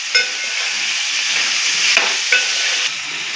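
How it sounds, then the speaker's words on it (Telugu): Potatoes and tomatoes being stirred into a frying poori curry, a steady close sizzle and hiss with a few soft scrapes of the spoon against the pan, no voices. "ఇప్పుడు ఈ బంగాళదుంపలు టమాటాలు వేసేసుకుందాం. ఒకసారి కలిపేసుకొని"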